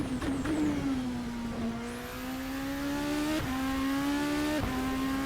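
A Super Formula car in Assetto Corsa screams along flat out with a sustained high engine whine, pitch dipping and climbing through quick gear changes, loud and continuous with a faint tyre squeal.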